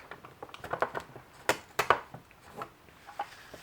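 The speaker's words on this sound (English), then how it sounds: "all I do is just tear it off" Vellum pulled and torn from a roll in a tabletop dispenser, heard as a few sharp, close papery rips and crackles in quick bursts against a quiet room.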